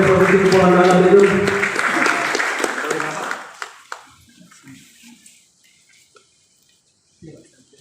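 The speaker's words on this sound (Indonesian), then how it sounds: "Kasih tepuk tangan dulu untuk Pak Ketua DPRD Provinsi Kepulauan Bangka Belitung." A crowd at a legislative training event claps for the provincial DPRD chairman of Bangka Belitung; a dense burst of applause that swells, then fades away over a few seconds into near silence.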